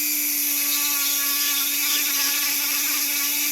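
A rotary Extreme Flame carving burr grinds a resin spoon with a continuous high-pitched whine, loud and close, holding steady throughout with no voices.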